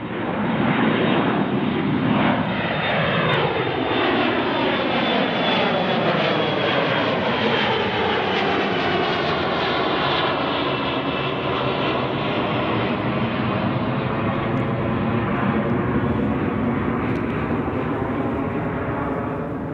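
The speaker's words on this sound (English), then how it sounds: "here's our Alaska 175 headed to San Francisco" An Alaska Airlines jet departing Paine Field, a loud sustained engine roar with a sweeping whine as it climbs away, steady and close for the whole stretch.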